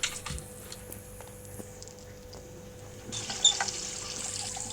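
Water running from a toilet sink tap into a basket in the horror game Metel Horror Escape, a steady soft flow that brightens and grows louder partway through.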